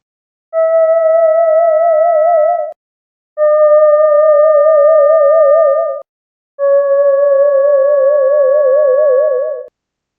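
Rock ultrasound measurements after 10 and 20 freeze-thaw cycles, turned into sound, come through as three steady electronic sine-like tones with a gentle wavering pitch, each lasting two to three seconds with brief gaps of silence between.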